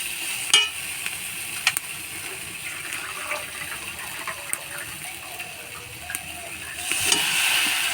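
Boiled potatoes stirred into masala in a pan for aloo dum, giving a soft steady sizzle with scattered spoon scrapes and clinks, a louder stir near the end.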